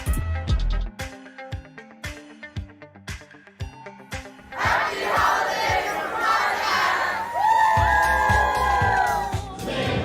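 A crowd at a police community shield event cheers and shouts loudly and continuously, whoops and yells swelling after a stretch of rhythmic beats and claps.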